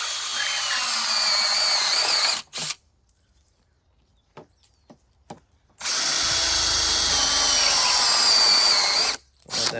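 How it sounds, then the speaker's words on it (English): A power drill with a unibit step bit bores through a 4-inch cap in two loud, close whining bursts separated by a pause with a few small clicks. "And I use this drill bit."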